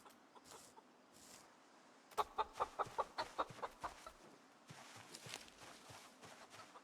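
A chicken in the zombie survival game Project Zomboid clucks in a quick run of sharp, evenly spaced calls, followed by softer scratchy movement and faint background noise.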